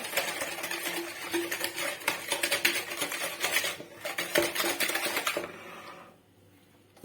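A utensil mixes basbousa batter in a bowl, giving steady close scraping and clinking for about six seconds before it stops into near silence.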